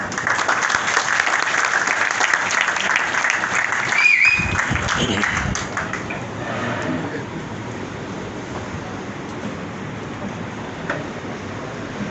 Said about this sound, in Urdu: آپ کی بھرپور تالیوں میں تنویر نادلہ